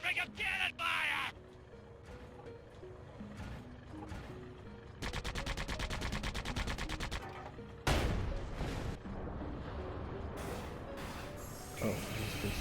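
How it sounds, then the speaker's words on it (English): Cannon fire in the Sand Land video game comes as loud bursts of rapid, repeated blasts separated by quieter stretches, with game sounds mixed in between. "Aim carefully and beat them a healthy serving of cannon fire!"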